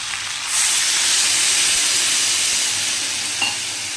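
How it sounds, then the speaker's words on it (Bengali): Hot water hits a pan of sautéed Thankuni leaf curry with plantain and potato, bursting into a loud, steady steaming hiss that holds without a break, with a faint clink near the end. "আর এটা এবার জল দিয়ে দেবো, জলটা গরম করাই আছে"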